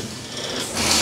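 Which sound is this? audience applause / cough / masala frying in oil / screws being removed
screws being removed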